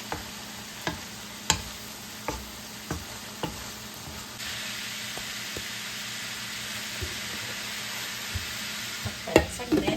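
Onions being stirred into a sizzling Filipino-Canadian spaghetti sauce, a steady frying hiss with repeated sharp scrapes and clacks of the spoon against the pan, close and continuous without talk.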